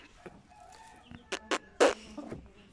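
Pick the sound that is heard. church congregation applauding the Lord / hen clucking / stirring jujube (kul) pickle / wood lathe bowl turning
hen clucking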